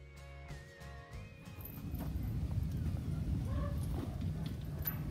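A 16-month-old Rocky Mountain stud colt moves along, its hooves producing soft, irregular close footfalls over a continuous rustling noise, with a brief vocal or tonal sound near the start.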